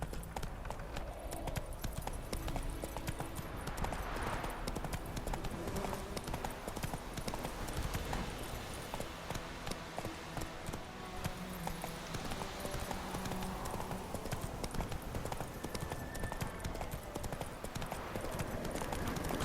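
Horse hooves clip-clopping at a steady galloping rhythm in the game Witcher 3, continuous and fairly close over game ambience, with a brief neigh possible.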